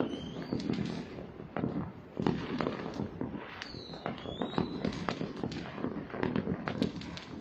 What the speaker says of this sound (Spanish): Estos son petardos lejanos, a más de 500 metros de distancia.